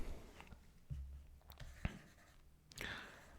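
Chalk or marker scratching and tapping on a board during a history lecture, faint short strokes and taps in a quiet room with no talk.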